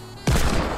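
A single loud, sharp Desert Eagle pistol shot in Fortnite Battle Royale, striking abruptly after a quieter lead-in and ringing out with a short decaying tail.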